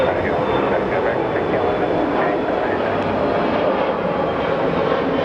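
Embraer jet aircraft at Phoenix Sky Harbor Airport gives a loud, steady roar of jet engine noise that holds for the whole stretch. A faint voice sits under the engine sound.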